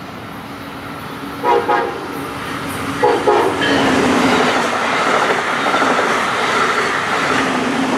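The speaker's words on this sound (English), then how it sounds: "a southbound Brightline makes use of the high-speed double track to leapfrog the slower-moving freight train" A southbound Brightline high-speed train passes on double track heading toward Miami, a loud, steady rush of wheels and rail noise building after a few brief rattles and holding through to the end, with no talk.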